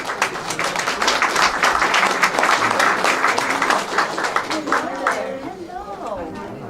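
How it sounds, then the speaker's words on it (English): Audience applauds award recipients, the family of a veteran, at a Simi Valley afternoon session: dense, loud clapping that thins out toward the end as a voice speaks over it. "Another round of applause for the Jing family"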